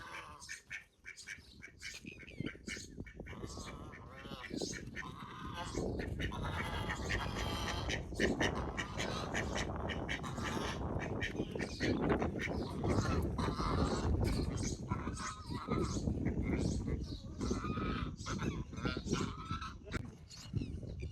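Ducks quack on a farm amid a dense, noisy outdoor wash of sound, with calls scattered throughout and no clear talking.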